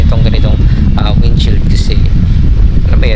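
Loud wind rushes past a rider on a KTM 790 Adventure R motorcycle with a windshield, roaring and buffeting the helmet continuously while someone talks over it.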